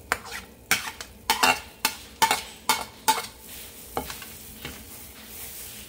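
Dried seaweed salad with onion, tomato, carrots, cucumber and lemon is tossed and mixed in a bowl, making a quick run of crisp, rhythmic knocks and rustles that thin out into softer scraping, close by with no voices.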